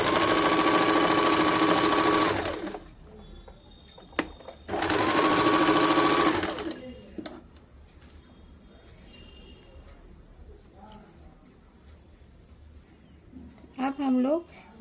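Sewing machine stitching a 3-inch strip onto a katori-cut blouse, two loud bursts of fast running stitches separated by a pause, followed by quieter handling noises and a voice speaking near the end.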